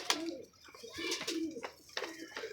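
Pigeons coo in soft, repeated throaty phrases close by, a pair of show birds kept for sale, with a few brief chirps between the rolling calls and no talk over them.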